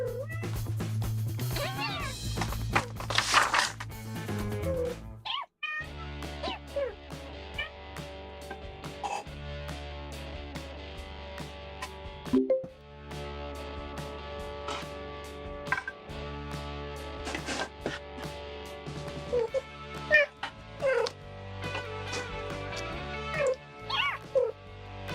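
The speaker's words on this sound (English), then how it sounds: "let's see what the cat wants" House cat meowing repeatedly in a room during a Gundam model-kit build, several short meows and cries scattered across the stretch amid faint background sounds and light speech.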